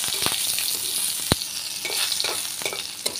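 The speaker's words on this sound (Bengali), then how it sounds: "খালি পেস্ট করে ভাজবো" Spice paste frying in a pan for eggplant bharta, a steady close sizzle with occasional sharp spatters and stirring scrapes.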